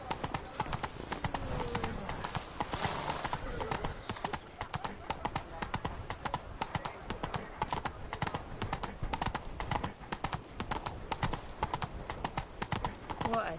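Roach, a horse in the Witcher 3 video game, gallops with steady, rapid hoof clip-clops throughout, close and fairly loud, while a voice occasionally urges it on.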